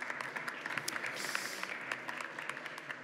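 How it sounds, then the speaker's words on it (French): Audience applause at the final of a hackathon, a steady broadband patter of many hands clapping at moderate level throughout, with no one speaking over it. "on peut les applaudir"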